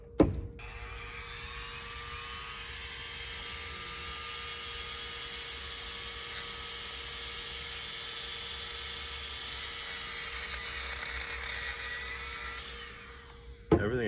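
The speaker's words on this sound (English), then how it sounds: "So all I should have to do is take my Dremel" A Dremel rotary tool with a cutting bit slits a fin on a handmade humpback jerkbait fishing lure, giving a steady, close whine with a constant hum that runs unbroken for about thirteen seconds before cutting off.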